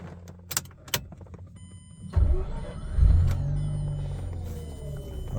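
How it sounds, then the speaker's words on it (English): A 2007 Mazda RX-8 started with a programmed OEM smart card: a couple of sharp clicks, then the starter cranks and the rotary engine catches and settles into a steady idle nearby. "Now the vehicle should turn on without inserting the key in it."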